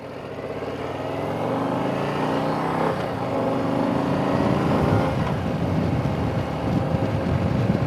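A Harley-Davidson Heritage Softail Classic touring motorcycle on the road, its engine droning steadily with rising and falling pitch as it rides, accompanied by a constant rush of wind.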